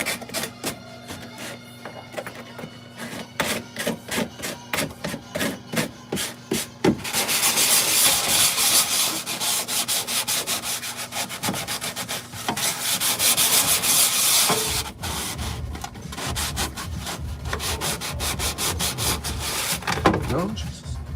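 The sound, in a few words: sanding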